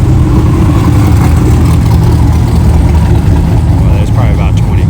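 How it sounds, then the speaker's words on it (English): Cars idle and rev in a hotel lot during a drag racing week, a steady loud engine rumble with occasional revving rising near the end. "If you can't hear from the cars in the background."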